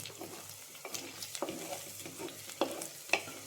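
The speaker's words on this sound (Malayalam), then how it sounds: "എന്നിട്ട് ചെറുതായി ഒന്ന് ഇളക്കും." Ginger and spices fry in a pan while being stirred, with soft scraping strokes and faint sizzling, punctuated by a few sharper clinks of the utensil against the pan.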